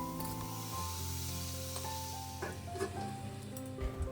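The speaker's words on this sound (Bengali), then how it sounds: "আর এবার সামান্য জল ছড়া দেবো আর চাপা দিয়ে দিয়ে রান্না করব।" A little water sprinkled onto cauliflower cooking in a hot pan, a soft hissing spray over a steady low hum with a few faint clinks.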